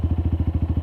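A 2015 Honda CG Fan 150 motorcycle fitted with a Fortuna Mini Trioval exhaust idles with a rapid, even thumping pulse, loud and close, with no other sound.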